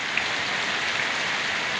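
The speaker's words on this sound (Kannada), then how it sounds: "ಮಳೆ, ಭಾರಿ ಮಳೆ ಬರ್ತಾಯಿದೆ ತುಮಕೂರಿನಲ್ಲಿ." Heavy night rain falls steadily in Tumakuru, a dense, even hiss of drops drumming on surfaces, loud and continuous with no voices.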